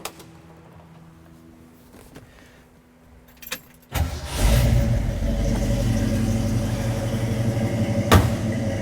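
A candy apple red 1967 Ford Mustang S-Code with a 390 engine cranks briefly, fires and settles into a loud, steady, throaty exhaust rumble close by, with a small blip of revs near the end.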